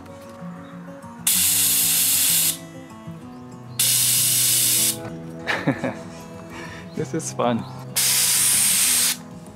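A steam cleaner blasts collected driftwood outdoors in three long, loud, even hissing sprays separated by pauses. A person speaks briefly in one of the gaps.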